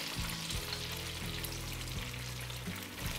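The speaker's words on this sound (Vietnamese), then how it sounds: "Lúc các bạn chiên mấy cái này cẩn thận nha" Banana fritters frying in hot oil, a steady close sizzle and crackle throughout with a few low thumps from the pan, no voices.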